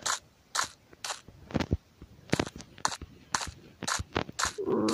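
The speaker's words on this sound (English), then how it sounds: "Now, this gun, I'm okay with, because I use it quite often. The AK-47." AK-47 gunfire in a Super Smash Bros.-style deathmatch video game, sharp cracking single shots fired in an irregular string of about a dozen bursts, loud and close with no talking.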